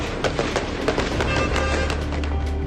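Gunshots at an attack near an entry point to Jerusalem, a rapid series of sharp cracks in uneven bursts over a dense, noisy background.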